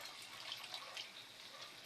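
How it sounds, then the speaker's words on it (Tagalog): Water poured from a container into a pot of soup, a steady close splashing gush that runs unbroken for the whole stretch, with no talking. "Bubusan natin ng maraming tubig"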